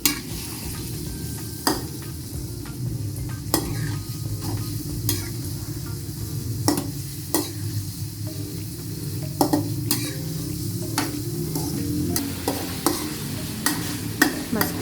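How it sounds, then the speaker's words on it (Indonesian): Chicken liver and gizzard sambal is stirred in a frying pan over a constant sizzle, with regular sharp knocks and scrapes of the utensil against the metal repeating every second or two; no voices. "Nah, diaduk-aduk."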